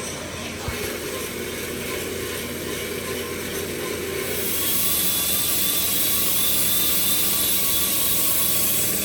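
Metal for a car's driveshaft tunnel is being cut while someone holds the piece, a loud steady grinding whine that shifts to a higher, brighter pitch midway and continues without pause.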